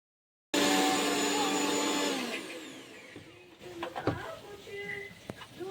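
A kitchen mixer grinds garlic into paste with a loud, whining motor that starts abruptly, runs for a couple of seconds and then winds down. Lighter clattering and someone talking follow.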